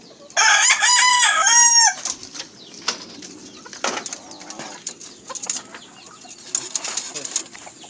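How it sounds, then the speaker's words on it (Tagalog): A jungle fowl rooster crows loudly once, close by, followed by quieter clucking, scattered rustling and soft wing flaps. "Yung mga tandang niya dito."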